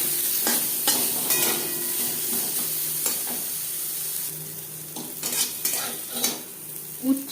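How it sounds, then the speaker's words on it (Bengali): Bitter gourd fries in oil in a wok with salt and turmeric, a steady sizzle under repeated scraping and clinking stirs from a metal spatula, close and continuous. "উচ্ছে হালকা করে ভেজে নেওয়া হয়ে গেছে"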